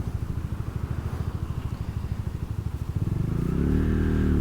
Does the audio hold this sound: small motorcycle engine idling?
yes